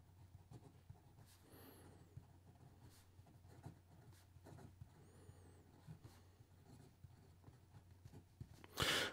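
An Ensso Italia PM4 fountain pen fitted with a Bock nib scratching across paper, faint and close, with soft irregular strokes and light taps of slight nib feedback.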